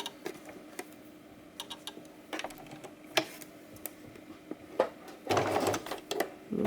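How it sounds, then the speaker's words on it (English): Home sewing machine running in short bursts while stitching fabric scraps for a choker, quiet clicking and whirring stitches in irregular spurts with a louder steady run near the end. "So I'll begin sewing."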